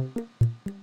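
Synthesizer notes with an adjusted volume-envelope decay, each sharp initial hit falling back to a sustained level; three low, harmonic notes sound alone in a short, rhythmic sequence.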